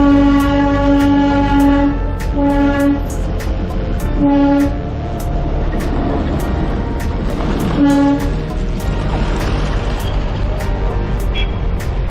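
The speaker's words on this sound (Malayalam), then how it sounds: "Darjeeling toy train" The Darjeeling toy train at night sounding its horn in repeated loud toots over the rumble and clatter of the moving train, close and continuous.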